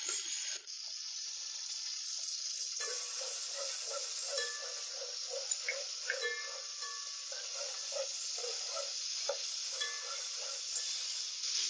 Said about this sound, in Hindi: एक मिनट हमने मसाले को भून लिया है।